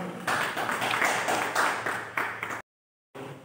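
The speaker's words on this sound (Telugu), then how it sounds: "చప్పట్లు కొడుతూ వారిని ఆహ్వానించారు." A church congregation claps to welcome Rev. Basavaraju at a fasting prayer meeting. Steady, moderately loud crowd clapping runs for a few seconds, then stops abruptly. A brief burst follows after a moment of silence.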